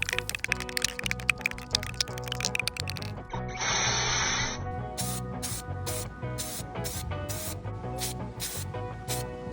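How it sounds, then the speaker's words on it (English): Slate gray spray paint is sprayed onto upright chopsticks for a craft clock, opening with rattling clicks of the shaken can, then a sustained hiss and a series of short, sharp spray bursts, close and clear with no talking. "so that they stand upright so that I can spray paint them. A slate gray."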